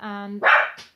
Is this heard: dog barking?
yes